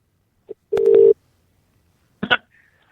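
A telephone tone after a dropped phone-in call on a late-night radio show: a short electronic beep, a steady held tone of about half a second, then a brief burst and a faint trailing tone, with no speech.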